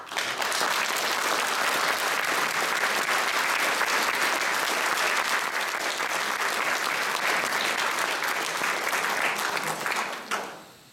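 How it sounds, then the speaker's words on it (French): Audience at a concert by the 9th Marine Infantry Brigade band from Poitiers giving sustained, loud applause for about ten seconds before it fades out quickly. "et les applaudir."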